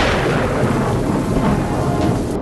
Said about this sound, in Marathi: पुण्यात धोधो पाऊस कोसळतोय. अगदी ढगफुटीप्रमाणे पावसाचा कहर पाहायला मिळतोय.